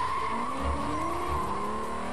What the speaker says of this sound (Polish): Pościgi samochodowe też mamy w tej grze.